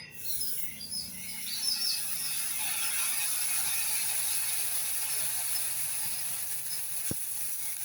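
Ghee melting in a hot pan gives off a dense, crackling sizzle. After a brief quieter start it settles into a continuous, fairly loud hiss, with no speech over it.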